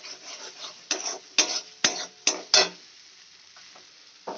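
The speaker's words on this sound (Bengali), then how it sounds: "বারে বারে ঘন ঘন লাড়তে হবে, কারণ কাজু দেওয়া আছে" A spoon stirs a thick spice paste containing cashews in a pan, giving several distinct scraping strokes against the metal over a low sizzle, spaced roughly half a second apart, then fading to a quieter simmer.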